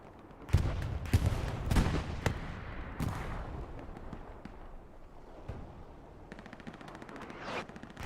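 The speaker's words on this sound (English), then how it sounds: "Ooh, artillery! Horribly wrecks the boys there." Artillery and gunfire in the multiplayer war game Hell Let Loose, with a burst of sharp blasts and cracks up close, then scattered rattling shots trailing off at a distance.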